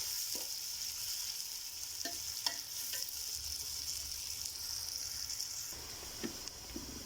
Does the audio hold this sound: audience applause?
no